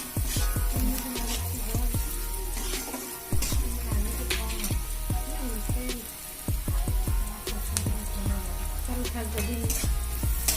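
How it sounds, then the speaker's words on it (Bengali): Spice masala sizzles and fries in a pan, a steady crackling hiss with frequent sharp pops and spatters and occasional stirring scrapes, close and moderately quiet. "এরপরে আমরা প্রথমে ভালো করে মশলাটা কষে নেব।"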